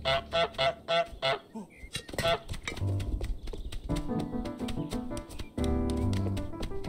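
Cartoonish goose honks from Untitled Goose Game ring out in a quick run of repeated calls at the start, then sparser honks over busy game music and sound effects.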